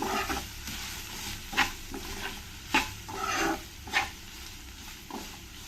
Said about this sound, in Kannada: ಒಂದು ಎರಡು ನಿಮಿಷ ಇದು ಸ್ವಲ್ಪ ಚೆನ್ನಾಗಿ ಫ್ರೈ ಆಗಲಿ